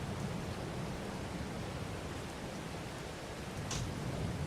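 Rain in the farming game Farming Simulator 22, a faint, even hiss of steady rainfall running unbroken throughout, with no voices.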